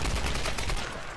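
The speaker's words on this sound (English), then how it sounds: "You're shooting at me, aren't you?" Rapid enemy gunfire in the Tomb Raider Definitive Edition (2013) video game on PlayStation 4, a dense continuous burst of shots lasting about a second, loud and close, with no talk.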